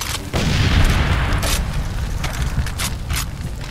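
Grenade blast in the shooter game Far Cry 2, a loud booming burst followed by several seconds of rumbling, crackling debris and sharp scattered bangs.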